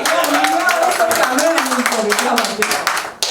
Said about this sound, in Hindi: जरा आप लोग जरा तालियां बजाइए।